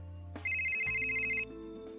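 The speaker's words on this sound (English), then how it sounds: "The bedside phone buzzed," A bedside phone sounds a short electronic ringtone, a single sustained tone lasting about a second over soft background music.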